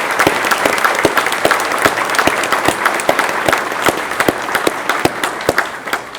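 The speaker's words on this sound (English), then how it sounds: "Let's give them a big round of applause." An audience at a college Founders Day event applauds the dining staff, a loud sustained round of many hands with sharper individual claps punctuating the dense patter, fading slightly at the end.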